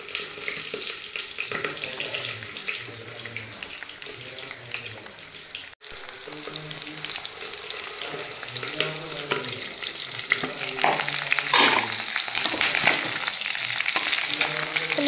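Onions fry in oil in a pan for a local-style chicken curry, a soft steady sizzle with occasional stirring scrapes and faint kitchen background sounds, gradually getting a little louder toward the end.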